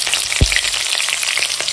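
Slit green chillies hit hot mustard oil with black cumin seeds, producing a loud, close, continuous crackling sizzle with a soft thud as they drop into the pan.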